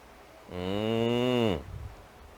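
A single close cow moo, one steady, full-bodied call lasting about a second against a quiet background.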